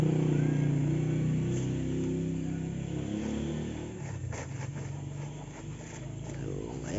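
Motorcycle engines idle and rev during a street parade, a steady mid-level drone that shifts and roughens partway through, with voices mixed in.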